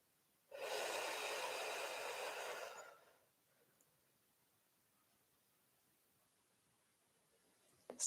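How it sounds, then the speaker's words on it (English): Gentle breathing during a yoga stretch: one long, soft, airy exhale that lasts about two seconds, close and quiet. Near-silence follows for the rest of the stretch. "Just gently breathing with this movement."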